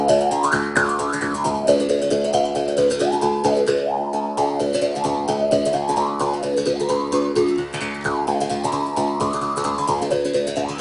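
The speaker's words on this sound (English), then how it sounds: "It's called the mouth bow. It is definitely the first stringed instrument ever in the world" A mouth bow, a simple single-string instrument strung with catgut, plays a steady twanging drone whose overtones shift in pitch like a mouth harp, continuous and close for about eleven seconds with no talking.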